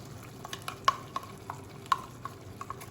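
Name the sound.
masala paste added to frying chicken curry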